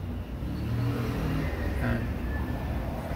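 Toyota 2E car engine from an ex-taxi that burns oil, idling after a top overhaul, a steady close low hum with a faint rising whir near the end.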